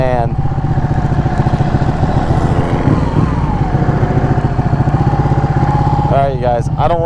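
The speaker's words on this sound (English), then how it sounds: "It's got a Volkswagen engine in that thing." Volkswagen-engined trike running steadily and loud nearby, a continuous low engine drone with a throb that holds for the whole stretch, with a voice coming in over it near the end.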